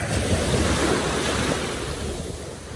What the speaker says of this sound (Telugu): చూసారా సముద్రం ఎంత ప్రశాంతంగా ఉందో?